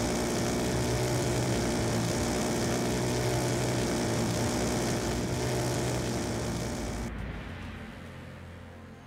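A VTOL aircraft departs in the Call of Duty Black Ops 2 video game, its loud, steady engine roar droning for several seconds before cutting away into a fading, quieter rumble.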